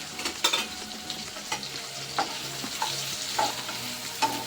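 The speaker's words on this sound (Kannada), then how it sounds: "ಹುರ್ಕೋಬೇಕು ಈರುಳ್ಳಿನ" Chopped onions fry in hot oil for a brinjal masala, with a spatula scraping and stirring them in the pan; a steady close sizzle is broken by sharp, irregular scrapes, and no one speaks.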